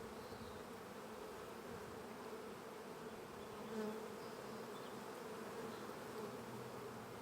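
Honeybees hum steadily around an open nuc hive during a brood frame inspection, a dense low buzz held at an even moderate level throughout with no talking.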